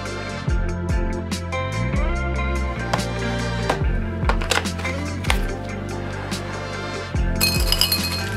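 Glass marbles drop one after another into a mead bottle, making bright repeated clinks and rattles over a steady background of music.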